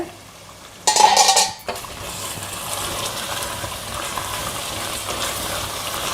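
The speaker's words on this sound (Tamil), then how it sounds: "இப்போ நம்ம இந்த லிட் எடுத்து பார்க்கலாங்க, கிரேவி எப்படி இருக்குன்னு" A metal lid comes off a pot of simmering potato gravy with a short, bright clatter, followed by a soft, steady bubbling and hiss of the cooking gravy.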